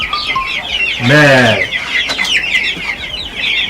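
Chickens cluck in a farmyard, with a louder harmonic squawk near the middle and steady high chatter throughout; a voice speaks briefly.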